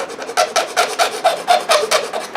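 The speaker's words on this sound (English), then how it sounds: "Usually I would use a drill, but this seemed to be done easier with a rasp." Rhythmic rasp filing the plastic casing of a Casio PT-87 keyboard, about a dozen scraping strokes in steady back-and-forth succession, close and fairly loud.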